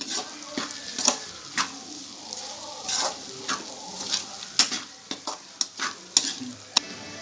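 Spices such as garam masala and coriander powder being stirred into chicken fried rice with egg in a pan, repeated scraping strokes over a low sizzle, close and fairly loud, no talk.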